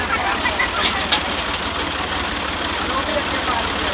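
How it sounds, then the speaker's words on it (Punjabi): Massey Ferguson 260 tractor engine running steadily at a low rumbling idle throughout, close and constant, with people talking over it. "ਐਵੇਂ ਟਰੈਕਟਰ ਦਾ ਜ਼ੋਰ ਲਵਾਈ ਜਾਂਦੇ"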